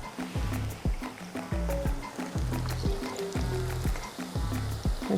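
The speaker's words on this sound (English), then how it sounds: "And the mogo is almost fried." Cassava (mogo) fries in hot oil with a steady, loud sizzle, broken by a regular series of dull knocks throughout, close by and without voices.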